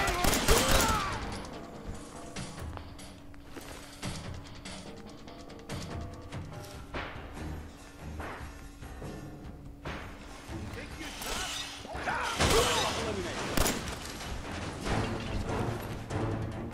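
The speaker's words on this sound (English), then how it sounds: "Way to fucking shoot everybody, bandits." Bandits fire guns in the Fallout 4 video game, with a burst of shots at the start and scattered cracks and impacts later, mixed with game effects while someone talks over the action.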